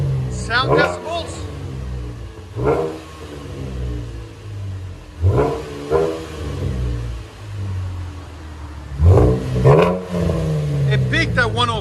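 Close by, a Camaro 3.6L V6 with a muffler delete and Flowmaster 10 Series Outlaw race mufflers blips its throttle again and again, each rev rising sharply from a rumbling idle, and people talk over it.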